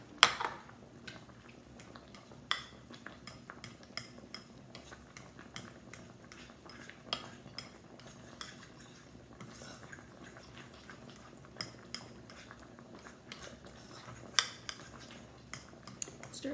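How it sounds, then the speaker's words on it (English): Cutlery clinks lightly against a pot while food is stirred, with scattered sharp taps and scrapes at irregular intervals over a quiet background. "And I'm going to stir that up."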